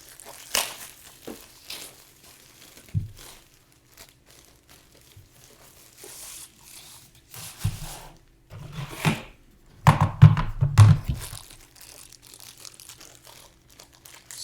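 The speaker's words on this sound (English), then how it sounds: "So you can unpackage it all and bring it out into your workspace or desk" Raspberry Pi kit packaging being unpacked nearby, with irregular bursts of crinkling plastic, crumpling and rustling cardboard, growing denser and louder toward the end, and no talking.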